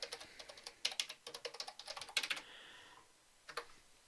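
Someone types the sudo yum update command on a computer keyboard in quick clicking bursts, closely miked and fairly quiet, with a pause and then a final pair of keystrokes.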